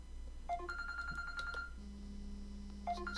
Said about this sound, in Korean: 아, 네, 전화가 왔었습니다